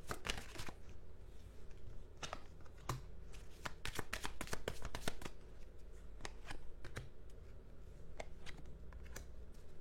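Tarot cards being shuffled by hand, a steady run of crisp riffling and slapping clicks that carries on throughout at close range, with no talking.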